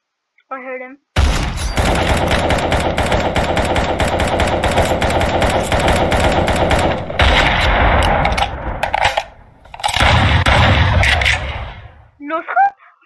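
Video game gunfire, including a headshot, comes in long loud bursts of rapid automatic shots with a short break between them, then tapers off into a few faint sounds near the end.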